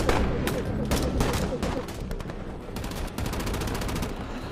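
Automatic gunfire in a war film battle scene, with rapid bursts of loud shots crackling over a dense, rumbling background of combat noise, continuous throughout.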